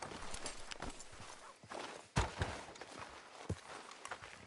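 Video game horse hooves clip-clop along at an unhurried walking pace, close by and fairly quiet, with a few sharper, heavier hoof strikes mixed in.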